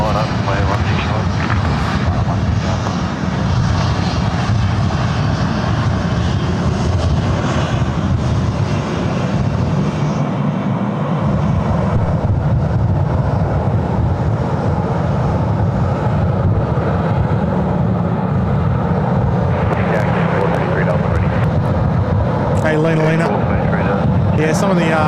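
A Korean Air Boeing 787-10 rolls for takeoff on runway 16 right at Sydney Airport, its engines producing a loud, continuous roar that swells and holds throughout, with talk layered over the steady engine noise.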